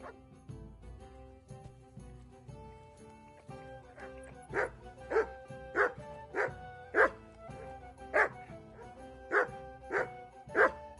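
A dog in a medieval role-playing game barks on command. A quiet stretch of game music comes first, then a rapid run of loud, close barks and yips follows, repeating roughly every half second.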